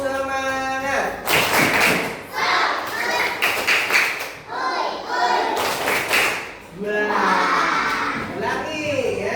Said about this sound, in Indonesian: coba berikan tepukan semangat yang paling keras